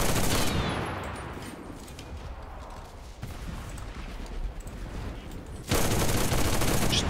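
STG-44 assault rifle bursts from a shooter game open loud and close, drop to faint background crackle, then return as heavy sustained automatic fire near the end.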